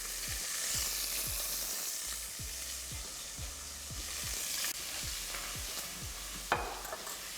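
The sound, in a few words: chicken pieces frying in a pan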